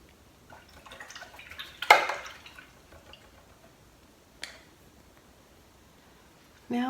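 A paintbrush is swished and tapped in a water jar while acrylic painting, giving a few brief splashing, dripping bursts separated by quiet gaps.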